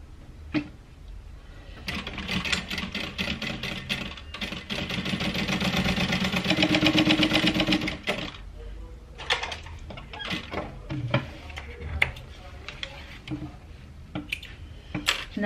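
Sewing machine basting the side of a handbag gusset to the bottom of a slip pocket, running in a steady mechanical burst of several seconds, with quieter handling noises before and after.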